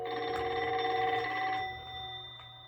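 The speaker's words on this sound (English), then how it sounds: "Cookie was saying when the telephone rang." A telephone bell rings in a short, bright burst of repeated trills on a children's storybook tape, fairly clear and alone before tapering off.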